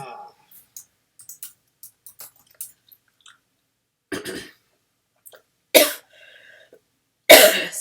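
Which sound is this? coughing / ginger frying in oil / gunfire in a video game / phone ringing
coughing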